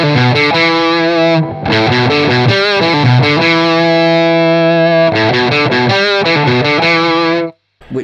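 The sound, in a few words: guitar through Thorpy Veteran fuzz into Marshall, smooth turned down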